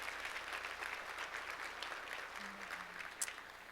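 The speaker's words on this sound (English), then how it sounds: "Round of applause." Steady audience applause fills a hall at a nonprofit's annual luncheon, a soft, continuous wash of many hands clapping at a distance with no voices over it.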